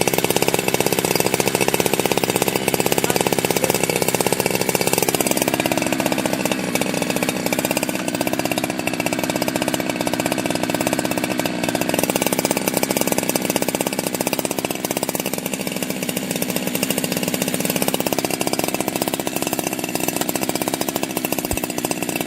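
A ported Jonsered 2165 Turbo chainsaw with a big bore kit idling steadily up close, a loud continuous buzzing two-stroke drone with slight wavering in pitch, no talk.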